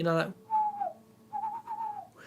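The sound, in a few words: person whistling imitating an owl's hoot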